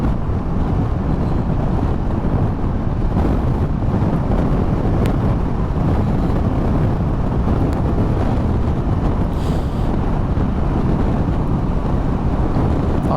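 Steady roaring wind buffets a rider on a Triumph Tiger 1200 GT Explorer motorcycle cruising on a motorway behind a wind deflector, a continuous loud rush with engine drone beneath and no talking.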